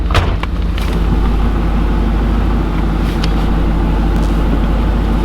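Chevrolet LB9/L98 Tuned Port Injection V8 idling after an ECU reset, a steady, close engine rumble with a few faint clicks near the start.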